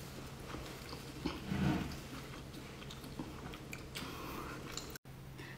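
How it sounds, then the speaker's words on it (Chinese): Someone bites and chews spicy crab and seafood, squid and lobster, with soft close crunching that swells around the middle of the clip over a quiet room hum. "你吃啊？ 啊，吃一口，好吧？"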